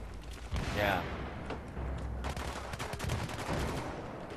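Rapid bursts of automatic gunfire from the Battlefield 3 video game, including a PP-2000 submachine gun in a team deathmatch, crackle at steady moderate loudness under someone talking.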